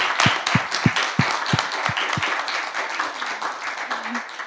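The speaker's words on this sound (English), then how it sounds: "Okay, let's applaud." An audience at an international conference on memory institutions breaks into applause. A few distinct, evenly spaced claps lead into steady crowd clapping that thins and fades toward the end, with a brief voice near the close.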